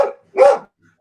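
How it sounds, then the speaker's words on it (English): A dog barks twice in quick succession, two short, sharp, fairly loud barks close by, followed by silence. "I got a dog barking and I couldn't hear what he said."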